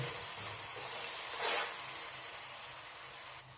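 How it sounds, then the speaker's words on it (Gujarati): Crushed green chillies with turmeric cook in a pan for a chilli-garlic chutney, giving a soft, continuous sizzle with one brief louder hiss midway and faint stirring. "આપણે જે મરચાં ક્રશ કરીને રાખેલા એ એડ કરી દઈશું અને આ રીતે થોડી વાર ચડવા દેવાના છે"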